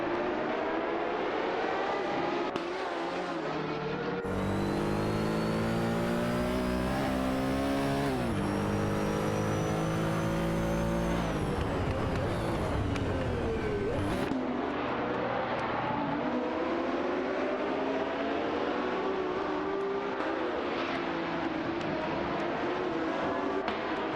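In a video game race, a Lola 70 MKE and a Porsche 917-20 scream past with rising and falling engine pitch. Several cars pass in turn, with one loud, close pass in the middle and a steadier hum afterwards.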